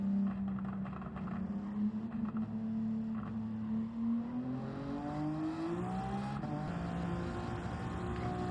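A Maserati MC20 in Gran Turismo 7 drones steadily with rising engine harmonics, its anti-lag system running as the revs climb toward the end, a continuous loud engine note with no talking.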